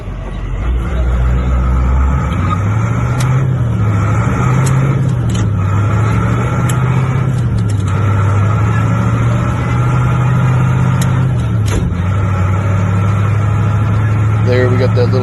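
Tow truck with a 5-speed manual and 2-speed rear axle driving along, a loud, steady engine drone from inside the cab with a wavering low pitch as revs shift, interrupted by a few clicks and knocks.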